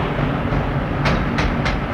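Passenger train arriving at a platform on the Italian Trenitalia rail network, a steady broadband rumble of rolling wheels and carriages with a few brief hissing bursts, fairly loud and close throughout.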